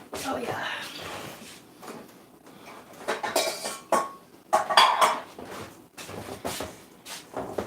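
Metal pots clank and cutlery clinks in a home kitchen as a pot is readied for boiling eggs in cold water, with several close knocks and scrapes spread through and a voice talking intermittently.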